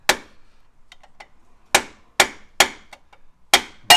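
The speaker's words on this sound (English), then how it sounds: "He just hammered in" A dead blow hammer drives a new bushing into the suspension of a Jeep Grand Cherokee WJ Overland, landing six sharp, loud blows in an uneven rhythm, with a few faint light taps between the first two strikes.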